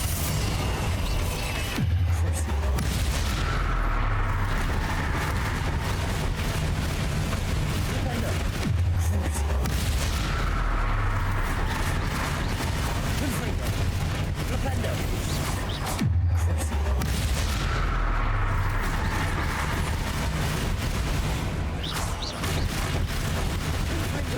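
Confringo and Incendio spell blasts in Hogwarts Legacy, a few booming bursts with crackling tails rising over a steady loud game soundscape, spaced several seconds apart.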